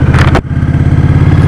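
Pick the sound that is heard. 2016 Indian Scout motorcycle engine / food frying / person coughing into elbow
2016 Indian Scout motorcycle engine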